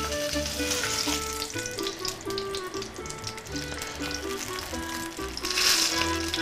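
Pepper frying in a pan, a steady sizzle with scattered crackles heard close, over a backdrop of rhythmic background music.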